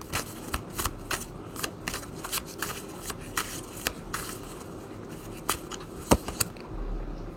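Tarot cards being shuffled by hand, close and crisp, with a rapid series of riffling flicks and sharp snaps spread across several seconds.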